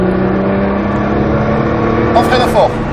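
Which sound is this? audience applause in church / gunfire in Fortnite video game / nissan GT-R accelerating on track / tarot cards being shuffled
nissan GT-R accelerating on track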